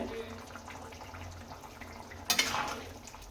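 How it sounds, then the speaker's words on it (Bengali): Katla fish pieces are stirred in a frying pan with a brief scraping sizzle near the end, following a quieter stretch of low background noise. "এভাবে এভাবে করে আমরা কি করে নেড়ে দেবো, নাড়িয়ে দেবো"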